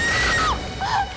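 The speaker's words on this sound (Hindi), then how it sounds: "क्या चीखने की आवाज आई?" A woman screams in a horror episode: two loud, high-pitched cries in quick succession, each sliding downward in pitch, heard up close with no talking.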